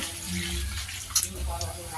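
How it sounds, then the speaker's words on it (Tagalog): Water runs steadily into a pot, a continuous splashing rush with a brief louder splash partway through, indoors. "Nilagyan na po ng tubig."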